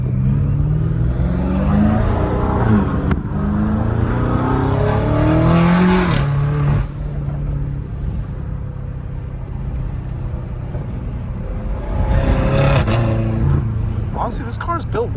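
A 650 hp BMW M5 Competition engine pulls hard through the revs, with a steady loud rumble, a rising whine and a brief dip near the middle before it builds again.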